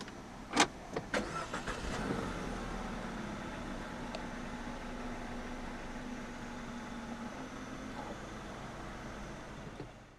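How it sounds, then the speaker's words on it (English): A 2017 DS 5 with the THP engine starts at the push of the start button: a sharp crank burst, then a steady, moderately loud idle hum held alone for several seconds inside the car. "put your foot on the brake, and press the start button straight away."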